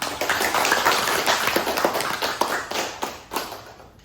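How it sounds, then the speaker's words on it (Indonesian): A classroom group gives a round of applause, a dense spread of claps and taps from many hands at moderate distance, fading out toward the end. "beri tepuk tangan untuk kita."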